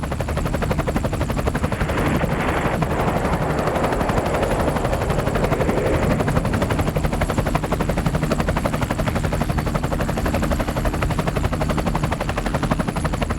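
An Apache attack helicopter flies steadily, its rotor producing a dense, rapid thudding chop that stays loud and constant throughout, with no voices over it.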